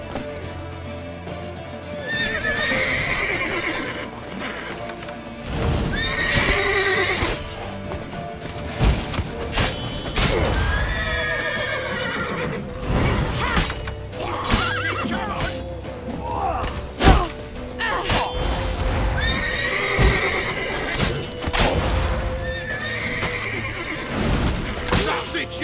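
Horses neigh and whinny repeatedly over steady clip-clopping hooves and thumps in the video game The Witcher 3, with shouting voices mixed in throughout.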